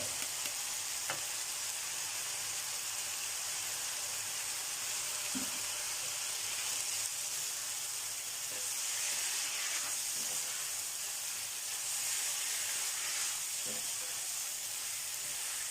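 Ground pork with pumpkin and holy basil leaves stir-frying in a pan, a steady soft sizzle and hiss with occasional clinks of a utensil against the pan.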